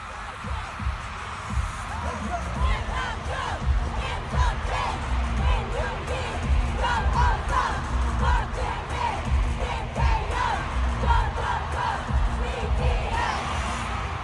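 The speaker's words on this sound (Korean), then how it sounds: "노래가 울리자 경기장이 떠나갈 정도로 엄청난 떼창이 터져나왔는데요." A huge stadium crowd at a concert in Texas sings along loudly to a song, a dense roar of massed voices over pounding music that swells and holds steady throughout.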